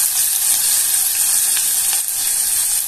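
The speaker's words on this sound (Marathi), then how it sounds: "आता त्याच्यात आपण एक बारीक चिरलेला कांदा टाकून घेतोय" Chopped onion dropped into hot oil with bay leaf, cinnamon and cumin, a loud, steady, close sizzle that hisses evenly throughout without a break, no speech.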